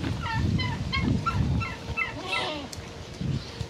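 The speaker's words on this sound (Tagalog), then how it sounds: "pabo natin" Farm turkeys call nearby in a run of warbling, gobbling notes, with a steady low rumble of background noise underneath.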